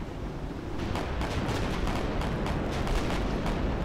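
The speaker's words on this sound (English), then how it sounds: "we are in range of the main cannon, so I'm going to shoot again" Warship main cannon volleys in the Victory At Sea naval game, a dense run of heavy booming blasts that blur into a loud, sustained rumble of gunfire.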